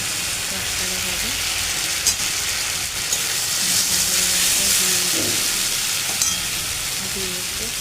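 Spices fry in a pan with drumstick stems and eggplant, a continuous close sizzle with occasional stirring scrapes and a faint voice in the background.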